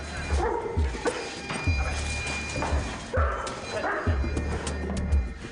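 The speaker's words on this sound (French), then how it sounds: "petites surprises comme l'attaque de 2 chiens muselés" Two muzzled dogs wearing steel-plated muzzles bark and yip during a bite attack test, a busy, noisy scene of repeated barks without speech.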